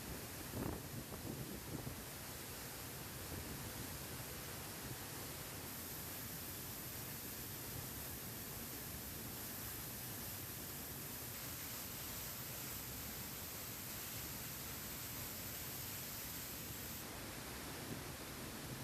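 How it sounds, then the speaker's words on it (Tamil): Meghamalai waterfall swollen with floodwater after heavy rain in Tamil Nadu, a steady, dense roar of crashing water that holds unbroken for the whole stretch, with no voices. "மேகமலையில் அருவியில் தற்பொழுது தண்ணீர் ஆர்ப்பரித்து கொட்டுகிறது."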